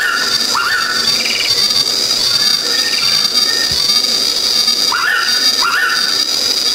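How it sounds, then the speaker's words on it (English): Blue-winged pitta calls twice in the Philippines, clear two-note whistled phrases spaced several seconds apart, heard over a steady high insect drone and faint background noise. "That is the sound of the blue-winged pita"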